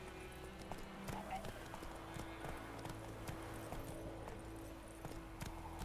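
Roach, a horse in The Witcher 3, gallops along with a faint, steady clip-clop of hooves sitting low under a constant humming game background.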